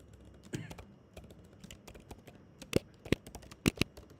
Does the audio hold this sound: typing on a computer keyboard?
yes